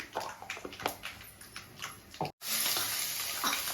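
Cashew nuts and carrot sizzling in hot oil in a pan for lemon rice, a steady crackling fry with stirring scrapes, close and fairly loud, broken by a brief gap before the sizzle comes back stronger.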